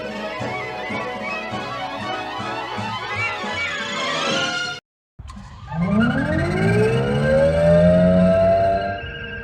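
A Jetsons-style flying car sound effect blasts from a Glydsphere external speaker mounted on a car, first a busy warbling electronic burst, then after a brief cut a loud rising, swooping whine that stays strong and alone.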